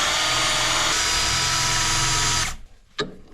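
A power drill bores a 3/4 inch hole through wood while building a chicken shelter, whirring loudly and steadily for about two and a half seconds before stopping, followed by a single short burst.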